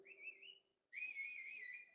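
Shrill whistling comes from an audience at a political rally speech. It starts as a warbling whistle, breaks off briefly, then returns as one loud, sustained whistle that is heard alone.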